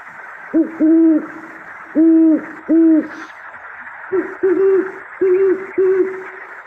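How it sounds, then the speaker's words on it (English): A pair of great horned owls, male and female, call back and forth outdoors, giving loud, close, deep rhythmic hoots in short clusters, with a slightly higher-pitched set followed by a lower one. "We could hear the male and female great horned owl."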